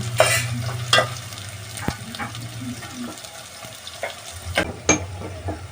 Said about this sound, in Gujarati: લીલી ડુંગળી અને હુકલ ડુંગળી મિક્સ. તો હવે આપણે આને ઘડીક ચડવા દઈશું.